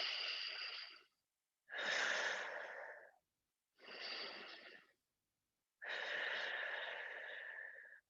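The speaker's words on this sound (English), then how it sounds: "Nice big inhales into the left side of your body." Four long, deep breaths during a stretching session, each a broad airy rush lasting about a second or more, separated by short pauses, close and clear with no talking.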